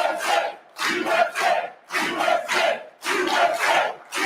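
A large crowd at a Trump rally roars in loud, repeated surges, rising and falling in about six bursts with brief gaps between them.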